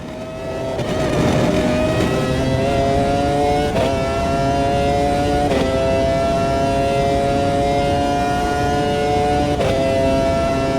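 Engine note of a race car in the simulator Automobilista 2 holds a loud, sustained whine, broken by a few sharp upshifts that briefly dip the pitch before it climbs again, heard alone.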